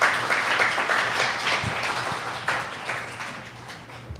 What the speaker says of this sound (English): Let's give KD a round of applause.